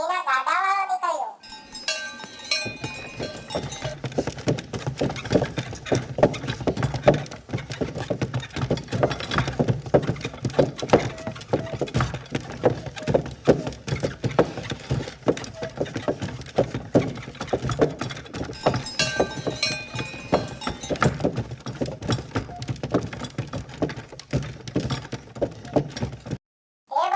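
A sugarcane cart rolls past with a steady run of hoof clip-clops and rattling cowbells, close and continuous, with occasional voices.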